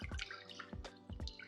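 Water in a bucket sloshing and dripping, with about four distinct splashy drops or pours in an uneven rhythm, close and fairly quiet against a faint indoor background.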